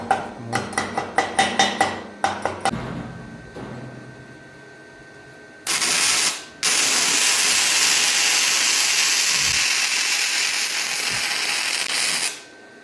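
A Vevor flux-core welder working scrap metal: a burst of sharp metallic taps first, then a steady loud crackling hiss of the arc that runs in two stretches separated by a short pause.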